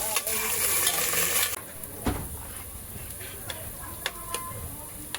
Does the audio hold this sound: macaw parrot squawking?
no